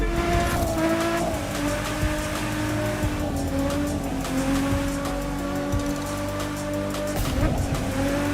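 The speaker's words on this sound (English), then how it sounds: "tire noise there." Racing car in the video game The Crew 2, its engine droning steadily while tires squeal through a drift, one continuous loud run with a brief swell near the end.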